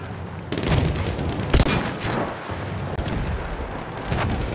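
Enemy machine gun fire in Battlefield 1 rattles off in close, rapid bursts, mixed with heavier booms and the general din of battle.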